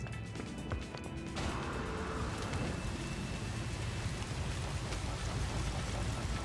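Steady rain hiss in the video game No Man's Sky fills the scene, a dense even wash of falling water with a brief sharper clatter near the start.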